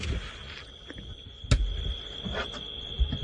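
Crickets chirp in a steady high trill on a night safari drive in the African bush, with faint scattered bumps and knocks nearby and no voices.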